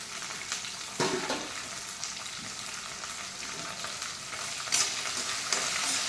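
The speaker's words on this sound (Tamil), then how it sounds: "பூண்டு ஒரு 4 பல், இஞ்சி ஒரு 2 துண்டு, பச்சை மிளகா 2 போட்டுக்கோங்க. நல்லா வதங்கட்டும்." Garlic cloves, ginger pieces and green chilies sautéing in oil in a pan for a kola urundai masala, a continuous close sizzle broken by a few sharp scrapes and stirs of a utensil.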